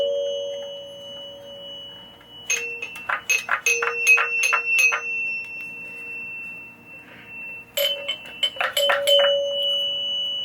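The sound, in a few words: 1976 Bally Night Rider pinball chime box chiming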